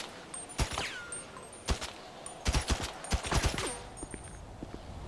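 Gunfire in Grand Theft Auto 5 on PS4: scattered bursts of shots, some in quick clusters, moderately loud against a quiet background with no talk.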